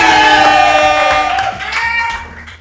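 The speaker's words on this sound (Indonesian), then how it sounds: "Tepuk tangan untuk 2 peserta kita" Audience applause for two young billiards players at the close of a pool match, a dense crowd clatter over steady background music that swells loud at first and then gradually fades.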